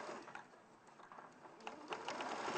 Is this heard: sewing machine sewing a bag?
yes